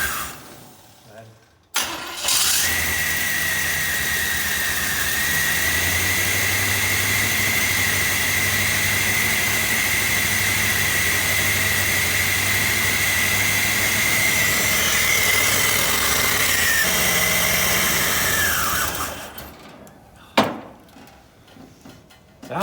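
Engine of a rebuilt wedding wagon fires up and runs steadily at a loud, constant idle for about sixteen seconds before cutting off, with a few knocks around the start and finish.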